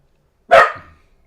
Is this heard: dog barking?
yes